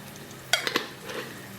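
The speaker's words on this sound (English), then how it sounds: "So here it's starting to sizzle." Thinly sliced garlic for a Basque garlic soup sizzles softly in a pan, a quiet steady frying hiss broken by a few sharp clinks of a utensil against the pan.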